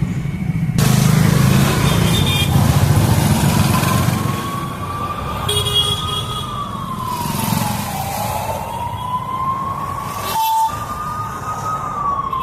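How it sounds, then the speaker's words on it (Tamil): Wailing ambulance-style siren fitted to a private vehicle on the road, rising and falling loudly over traffic rumble, with a brief break near the end and no talk. "ஒரு பிரைவேட் வண்டியில் முன்னாடி வந்து ஆம்புலன்ஸ் மாதிரி போகுதுங்க"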